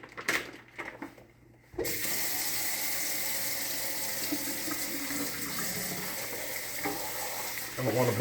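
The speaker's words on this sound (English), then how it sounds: "So I'm just going to give it a quick rinse." Tap water runs steadily onto raw pork ribs being rinsed in a kitchen sink, a continuous close splashing hiss that starts after a brief quieter stretch and carries on unbroken to the end.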